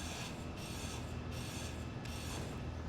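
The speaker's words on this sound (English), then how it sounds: "You grind it down a little bit." A block being ground down with a grinder tool in Space Engineers gives a steady, harsh rasping noise. It stays loud and unbroken throughout, with no voices.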